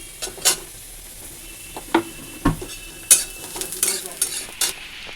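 Whole spices tempering in hot oil for dal, a light continuous sizzle broken by sharp spoon taps and scraping stirs against the pan, close and alone.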